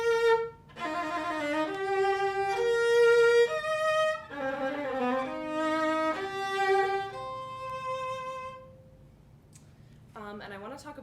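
Solo viola plays a passage from Mozart's first viola concerto at measure 58, a series of clear sustained bowed notes in steady succession, fairly close and alone for about nine seconds before a brief different tone near the end.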